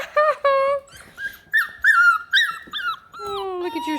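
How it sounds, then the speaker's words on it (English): A beagle puppy gives a run of high, squeaky whimpers and yelps, each short cry rising and bending in pitch, close by with brief gaps between them and no talk over them. "Noisy puppy."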